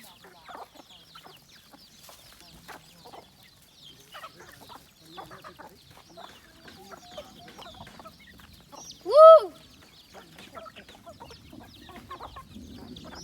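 Chickens cluck softly and sporadically nearby, with one sharp louder squawk partway through amid quiet rustling outdoors.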